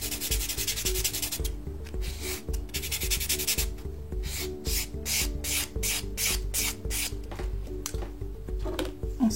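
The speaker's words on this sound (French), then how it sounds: "Terminez votre limage, donc ponçage, à l'aide du bloc ponce, donc qui possède un grain beaucoup plus fin." A fine-grit buffer block sands a stencil-built nail extension during nail technician work, with continuous rubbing strokes that turn into a quick regular back-and-forth rhythm, close and fairly loud.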